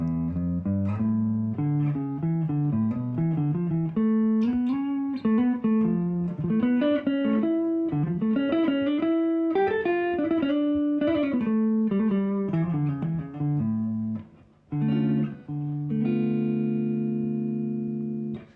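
A single guitar plays a steady run of notes climbing and descending a melodic minor scale, ending on sustained chords; clear and close, with no talking.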